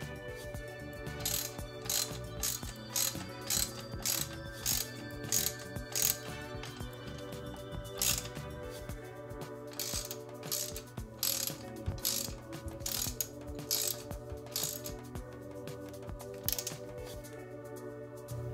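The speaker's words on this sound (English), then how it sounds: "use our socket to reach manufacturer's torque spec" Rhythmic, close socket ratchet clicks in repeated bursts as the foot nuts on a Fox or RockShox bike fork's lowers are tightened to torque spec, steady and unaccompanied by talk.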